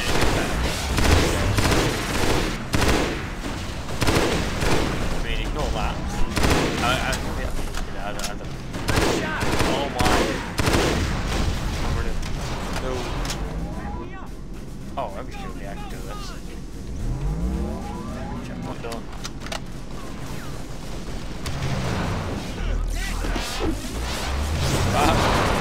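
Dense, continuous gunfire and explosions from the video game Halo SPV3, a loud sustained roar of shots and blasts throughout, with people talking over the chaos.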